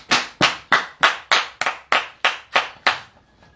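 A church congregation claps in unison to acclaim Jesus, about ten sharp, evenly spaced claps, loud and near, with no talk over them.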